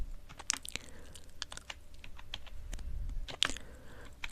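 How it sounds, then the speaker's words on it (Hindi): Keys clacking on an HP K300 gaming keyboard, a budget membrane model, in an irregular run of close, crisp strokes with a couple of sharper presses, heard alone in a quiet room. "टाइपिंग करके भी देख लेते हैं थोड़ा इसमें।"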